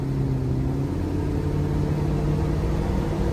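A 1967 Chevrolet Chevelle engine hums steadily at a low, moderate pitch as it drives off, a smooth continuous rumble without talk.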